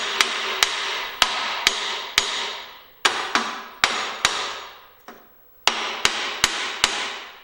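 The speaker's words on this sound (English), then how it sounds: "Hitting on it also helps, but you have to be careful because you don't want to break it." Loud, sharp metal hammer blows strike a seized part on a 1971 Gravely 430 tractor, about fifteen impacts in quick bursts with short ringing decays and a brief pause midway.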